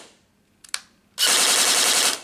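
A stock airsoft gun, powered by a 7.4V 1200mAh lipo through Deans connectors, fires one loud, dense full-auto burst lasting about a second, preceded by a couple of sharp mechanical clicks.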